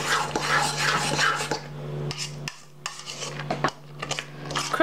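A spoon scrapes and clinks against a bowl while folding a cream mixture for Jell-O Oreo cupcakes, a steady close-up rasping that fades into a few scattered, softer taps.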